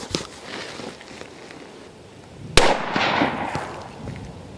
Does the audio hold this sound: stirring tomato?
no